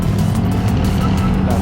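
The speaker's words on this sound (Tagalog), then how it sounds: "Maraming motor pa rin ang biyahe." Motorcycles ride along a road, a loud continuous engine drone with low rumble close by, steady throughout a short stretch, with a voice speaking over the traffic.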